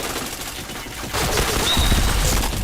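Gunfire in a first-person shooter video game: a dense burst of rapid shots swells after a quieter start and crackles on to the end.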